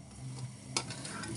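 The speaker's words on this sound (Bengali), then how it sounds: "পাতিল চুলায় দিয়া সামান্য একটুখানি তেল দিয়ে দিছে। এর ভিতরে এখন আমি পেঁয়াজ দিয়ে দেব।" Onions sizzle quietly in a little oil in a pot on the stove, a soft steady frying hiss with a brief clink partway through.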